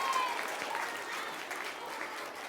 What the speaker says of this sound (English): give a round of applause for Alexandra